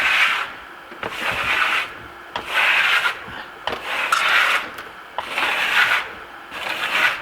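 A steel trowel burnishes a damp, freshly finished Marmorino lime plaster wall in long rhythmic rasping strokes, about six passes with brief pauses between, close and steady.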